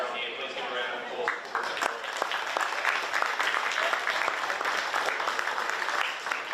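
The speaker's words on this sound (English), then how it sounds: "Please give a round of applause." A crowd claps at the close of a men's Queensland versus Victoria rugby interstate match. The applause is dense and sustained, with a quick burst of sharp claps early on and a murmur of voices underneath.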